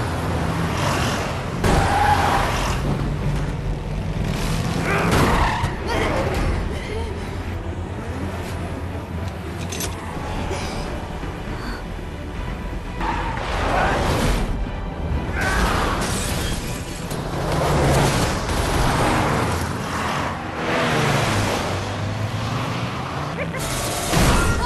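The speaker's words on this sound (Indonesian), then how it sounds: "Terjadi aksi kebut-kebutan." Cars roar and rush past in a film car chase, engines surging with crashes and booming impacts throughout, under continual talk.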